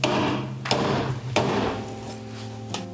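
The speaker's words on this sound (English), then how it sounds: "Gonna hammer it out of the way and then we'll do the backside." Hammer blows on a cut body mount of a Toyota 4Runner during a 35-inch tire install, with three sharp metallic strikes spaced apart over a ringing, humming background, close and loud.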